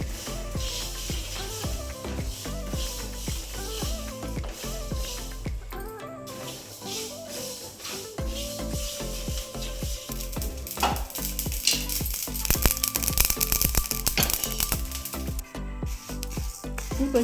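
Cumin and mustard seeds fry on a medium flame for amla pickle, a steady sizzle and crackle with scattered metallic clinks of stirring that grow a little louder and busier toward the end.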